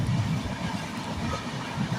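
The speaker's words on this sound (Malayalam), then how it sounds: "സ്റ്റേഷൻ കടന്ന് ട്രെയിൻ മുന്നോട്ട് പോവുകയാണ്" A train running along the tracks past a station in Kerala, heard from on board as a steady low rumble with soft rolling wheel noise, continuous and fairly loud, with no voices.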